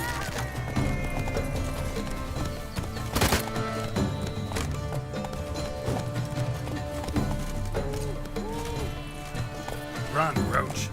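Roach, Geralt's horse in the video game Witcher 3, gallops with steady hoof clip-clops under dense game music and effects, with a sharp crash partway through and a voice speaking over it.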